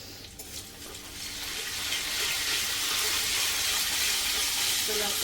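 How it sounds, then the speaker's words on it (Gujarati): Finely chopped garlic and asafoetida fry in hot oil for a spinach-potato dish, a close, steady sizzle that grows louder and denser over a few seconds, with faint kitchen clatter. "તો લસણને થોડું શેકવા દઈશું તેલમાં."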